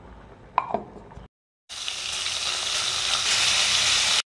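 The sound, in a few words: dried chillies, black cumin and bay leaves sizzling in hot oil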